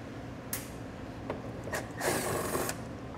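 A tool works out screws from a trim panel on a 2021 BMW X5, giving several short whirring bursts and light mechanical clicks up close against a quiet background.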